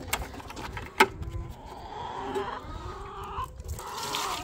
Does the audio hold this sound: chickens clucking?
yes